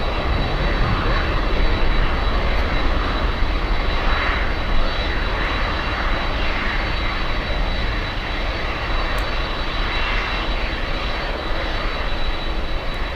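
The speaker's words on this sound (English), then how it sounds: "We have an American Airlines 737." American Airlines Boeing 737 jet arriving at Miami International Airport, a continuous loud engine roar with a steady high whine, close and sustained throughout.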